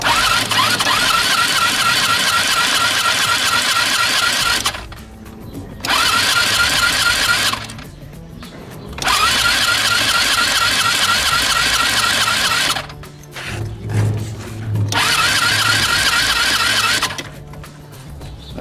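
A Carabela VX 190 motorcycle with low compression cranks repeatedly in long whirring bursts, four or five attempts separated by short pauses, the engine never catching.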